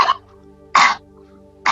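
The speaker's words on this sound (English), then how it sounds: "Huffing is breathe out and make a sound." Big forceful huffs of breath pushed out with sound during a post-Covid breathing exercise, three short loud breathy bursts spaced apart with quiet between them.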